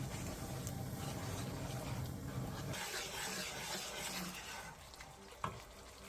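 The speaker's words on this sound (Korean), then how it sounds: "골고루 섞어가며 중약불에서 한번 자글자글 끓여주세요" A chili-garlic sauce of gochujang, chili flakes, minced garlic, soy sauce, corn syrup, oil and water bubbles in a pan over medium-low heat while being stirred, with low rumbling bubbling fading into softer sizzle and a single clink near the end.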